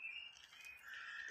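Birdsong in the Scottish countryside: a faint, high chirping phrase that sustains and shifts pitch, heard alone over quiet outdoor air.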